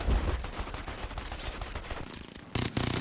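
Rapid bursts of automatic gunfire from Call of Duty Warzone, a dense string of sharp close shots that breaks off briefly and then resumes.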